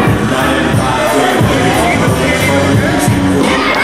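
Wrestling audience in Kelowna roars continuously, a dense loud crowd with shouts and whoops blending into a steady wall of noise.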